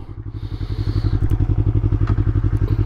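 A 2019 Yamaha R3 motorcycle engine idles at low revs nearby, a steady loping thump with a faint rattle.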